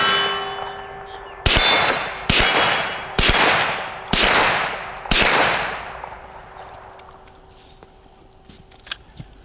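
Five loud gunshots from a Ruger PC9 carbine, fired in a quick uneven series, each a sharp crack with a long ringing tail, followed by fading echo and faint handling noise.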